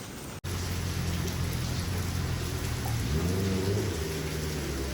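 Heavy rain pours down steadily and loudly on a stop during a rainy motorcycle ride to Idukki on a KTM 390 Adventure. It fills the scene with a continuous hiss, and a low engine-like hum runs underneath.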